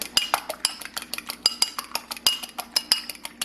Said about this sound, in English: Gotta whisk my egg up just a little bit more.